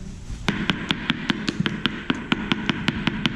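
A tool knocks again and again on a hollow-sounding floor tile on a Philippine house-building site, roughly fourteen crisp, steady taps starting after a brief pause, close and clear.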